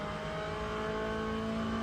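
Race car engine in the sim racing game Le Mans Ultimate, held at a loud, steady, snarling rev throughout with a constant droning tone and no talk over it.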